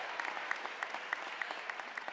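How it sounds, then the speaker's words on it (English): Steady applause from a large audience at a law school spring convocation, with dense continuous clapping and a few sharper claps standing out throughout, no voices. "Yes, applause."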